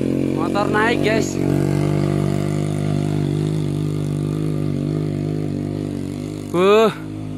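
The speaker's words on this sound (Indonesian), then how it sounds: "Motor naik ke sini guys." A motorcycle engine hums steadily as the bike climbs a steep, slippery hill road toward a mountain viewpoint, with short rising revs near the start and again near the end; a person talks over it.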